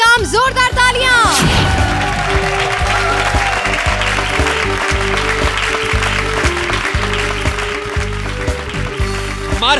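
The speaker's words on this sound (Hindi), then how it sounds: "जोरदार तालियां" Loud, sustained applause from a comedy show studio audience, dense clapping mixed with background music and shouts.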